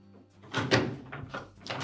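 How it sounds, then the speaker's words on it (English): Hinge pins of a Whirlpool dryer door are fitted into their sockets, making a few soft knocks and plastic clunks at close range, with no talk. "Line up those hinge pins into the proper sockets."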